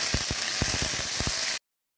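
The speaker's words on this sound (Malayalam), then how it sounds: "ഇനി നമുക്ക് അതിലേക്ക് കുറച്ച് കരിവേപ്പില നമുക്കിടാം." Curry leaves sizzle and crackle loudly in hot oil in a pan, with a few sharp pops, before the sound cuts to silence.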